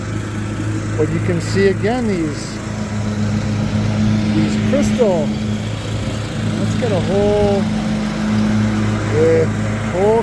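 A lawn mower drones steadily in the background while a person talks close by, with occasional rises in the engine's pitch.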